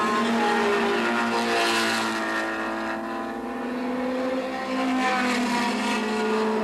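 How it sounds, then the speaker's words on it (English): A Porsche 924 and a Triumph TR7 racing on a circuit during a 1980 SCCA D Production national race, engines droning loudly and steadily at speed, the pitch dipping briefly midway as the cars pass. "There we see Tom Brennan in that dark 924 following the white open TR7"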